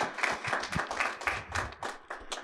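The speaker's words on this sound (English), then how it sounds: "Let's give him a big round of applause, guys." Audience at an electric vehicle charging talk clapping for a speaker, a brief, fairly quiet round of scattered hand claps with uneven rhythm and no voices.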